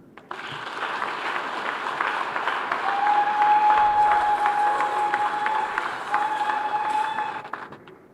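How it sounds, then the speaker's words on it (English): A church congregation claps for a government minister, sustained crowd applause that swells and then tapers off, with a faint tonal hum partway through. "Clap for this minister."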